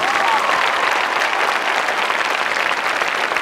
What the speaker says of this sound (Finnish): Ja hyvä yleisö, nyt sitten raikuvat aplodit.